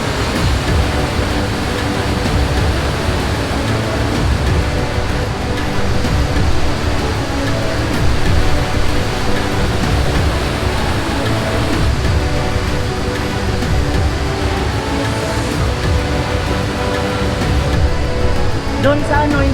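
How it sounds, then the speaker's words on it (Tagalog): Pressurized water rushes loudly and steadily at Wawa Dam in the Philippines, a dense continuous roar filling the whole stretch, with a voice partly buried beneath it. "Kasi papasok na yung tubig doon sa baba. Pag ano na, ang pressure ng tubig malakas."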